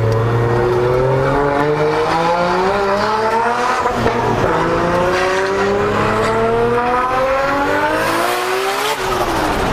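A Nissan Skyline accelerates hard, its engine note climbing in repeated rising sweeps through the gears, loud and close, with a brief break at each shift and no talk over it.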